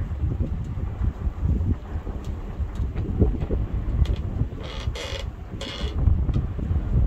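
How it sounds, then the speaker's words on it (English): A steady, blustery wind rumbles against the microphone high above the market square in Goslar, Harz Mountains, Germany, with gusts rising and falling and no clear voices. "It's quite windy up here."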